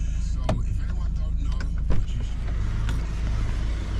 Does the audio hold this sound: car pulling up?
yes